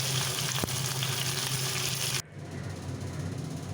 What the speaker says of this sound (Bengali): ঝালের মশলাটা দেবো কালো জিরে কাঁচা লঙ্কা ফোড়ন